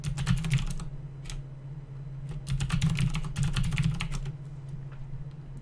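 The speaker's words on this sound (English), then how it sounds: "We're going to log in as root and use a password that was specified during installation." Rapid clicking keystrokes on a computer keyboard as a root password is typed at a VMware ESX login, in irregular bursts with short pauses, close and clear with no talking.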